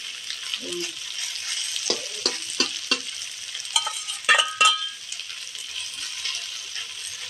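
Fried onions go into a pan of frying shamla fish in mustard, with steady sizzling and several sharp scraping stirs of a spatula, close and moderately loud, no voices.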